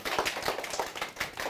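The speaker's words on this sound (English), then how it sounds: "Give him a round of applause." Children clap together in a small group, with faint, quick, uneven bursts of applause over a short stretch.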